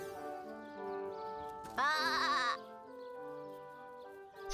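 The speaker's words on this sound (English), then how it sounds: "we are near some cattle and sheep" A sheep in the video game Divinity: Original Sin Enhanced Edition lets out one loud, wavering bleat lasting under a second, standing out over a steady, droning background ambience.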